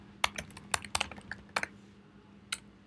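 Clicky computer keyboard keystrokes typed in quick irregular bursts into a terminal, close and fairly quiet, with short pauses between clusters.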